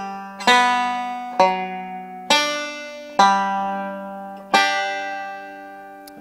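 A short banjo D ending lick: five plucked chords or notes in a slow, even rhythm, each ringing bright and twangy before fading, close and unaccompanied.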